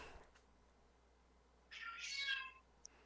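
An angry cat lets out one drawn-out, rising meow, close and fairly loud against a quiet room, with a faint tap just before and a small click after.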